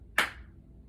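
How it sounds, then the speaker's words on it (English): A single sharp hand clap during a yoga flow, landing between breathing cues in a chair-pose sequence, with a short bright decay and quiet room tone afterward. "Clap."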